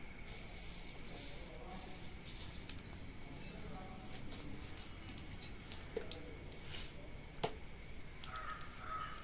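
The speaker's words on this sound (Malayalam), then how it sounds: "ആദ്യം കടുക് ഒന്ന് പൊട്ടിച്ചെടുക്കണം." Mustard seeds popping in hot coconut oil, heard close as a steady frying sizzle broken by scattered sharp little pops.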